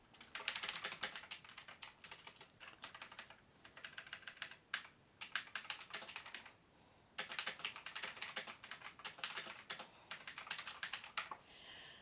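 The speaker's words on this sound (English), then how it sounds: "I type in a note." A note is typed on a keyboard in quick, close-up bursts of clicking keystrokes with short pauses between runs, quiet and with no voice.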